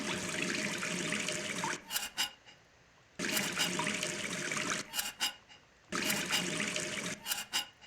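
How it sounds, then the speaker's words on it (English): Water runs from a faucet in three bursts of steady rushing flow, each stopping abruptly with brief clattering splashes before the tap is opened again; the flow is close and fairly loud, with no one talking. "The faucet works."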